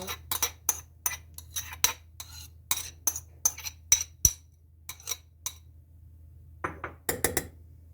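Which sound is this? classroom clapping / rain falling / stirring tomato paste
stirring tomato paste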